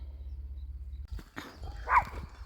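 A dog barks once or twice at a rural Carpathian mountain homestead, short rough bursts at moderate distance over a low steady background hum.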